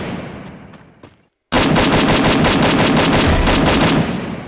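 Gunfire in a shooting video game: a few sparse shots, a brief gap of silence, then a loud, sustained rapid burst of automatic fire that runs to the end without any talk.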